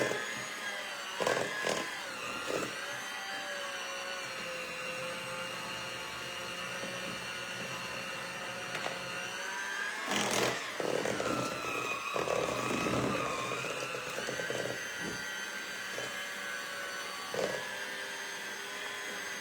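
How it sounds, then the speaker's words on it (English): Electric mixer beating cherry nut bread batter with cherries, a continuous close motor whine with occasional louder surges and bumps as the beaters work through the mix. "Then I'll put the cherries in and mix it up."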